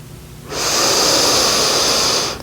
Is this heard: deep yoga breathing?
yes